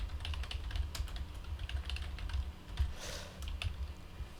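Rapid keystrokes patter on a computer keyboard, close and steady with a brief pause before resuming, as hashtags are typed into a social media scheduler.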